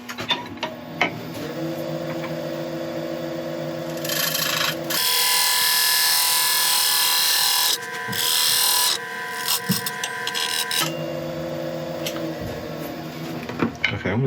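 A woodturning tool cuts down a wooden lip on a spinning lathe, a steady motor whine under rough scraping bursts that start and stop several times, close and loud.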